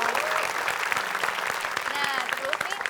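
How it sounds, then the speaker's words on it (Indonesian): Studio audience on an Indonesian TV comedy show claps for a guest named Yuanita: a dense, steady wash of applause filling nearly three seconds, with a voice or two faintly mixed in beneath it. "Tepuk tangan buat Yuanita."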